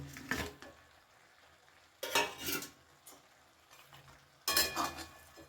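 Cabbage with fried fish heads is stirred in a pan with a utensil in three distinct bursts of scraping and clinking, faint overall with quiet gaps between strokes.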